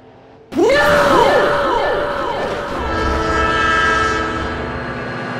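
A train in a vehicle crash video game blasts its horn as it passes, a loud, close multi-tone blare that bends downward in pitch while wheels rumble and clatter underneath, then fades slightly as the train rolls on.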